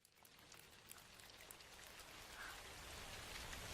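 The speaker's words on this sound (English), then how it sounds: "How is it raining in a movie theater?" Steady rain patters and hisses, growing slightly heavier, with scattered drops ticking on a surface nearby.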